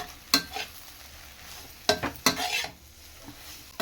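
A spoon scrapes through chilli bread frying in a pan on a low flame, giving three sharp stirring strokes over a faint, steady sizzle.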